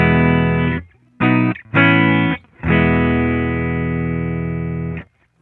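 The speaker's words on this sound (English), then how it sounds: "we can flip the polarity of the second amp and it sounds like this." Distorted electric guitar runs through two amps, the second with its polarity inverted via an Empress Effects Buffer+ Stereo with ISO transformer: a held chord, two quick choppy stabs, then a long sustained chord that cuts off cleanly, loud and upfront.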